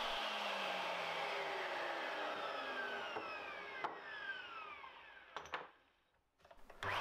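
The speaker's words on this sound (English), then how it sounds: "These 45s now need the corners taken off so that I've got somewhere for the clamps to go." A mitre saw whines loudly at steady speed, then winds down as it trims the corners off wooden clamping blocks, with a couple of sharp cutting clicks before the motor fades out and briefly restarts.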